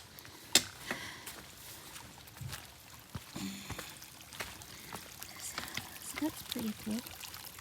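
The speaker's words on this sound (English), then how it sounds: "There is a piped water source right here." Water pours from a piped spring beside the Appalachian Trail on a foggy day, a faint, steady trickle with scattered knocks and a voice speaking briefly.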